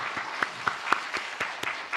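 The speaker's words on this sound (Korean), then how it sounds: "우리 청년부 다시 한번 박수 한번 해주시고요." A few people in a Sunday church congregation clap for the youth group, with sparse, distinct hand claps in a loose rhythm over quiet room tone.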